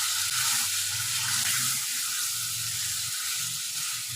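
Gram flour frying with spices in a pan, a continuous soft hiss with low scraping stir strokes repeating underneath, close and steady without talking.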